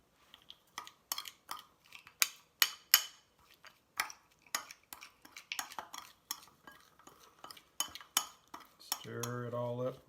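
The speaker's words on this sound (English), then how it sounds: "Stir it all up real good." A spoon clinks and scrapes around a bowl while stirring a no-cook breakfast with chia and honey, a steady run of close, bright clinks and scrapes, ending in a brief low hum.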